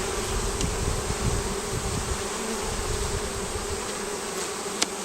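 Honey bees buzz continuously around an open hive during an inspection, a dense close drone with steady intensity and a faint tap near the end, and no talking.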